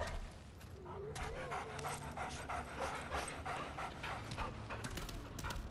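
A dog pants rapidly and steadily in the video game Remnant from the Ashes, with occasional soft whimpers and light footfalls, quiet and fairly close.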